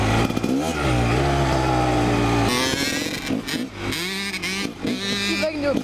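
A Honda CR 250 or CR 85 dirt bike revs hard and loud up close, holding a high buzzing note before dropping into choppy throttle blips as the rear tire spins out, with people talking over it.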